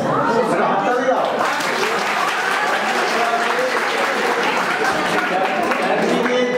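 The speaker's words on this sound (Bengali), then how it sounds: "হাততালি দাও" Students at a B.Ed college week event applaud in a hall, giving a dense, loud, continuous clapping that runs throughout, with a few voices mixed in under it.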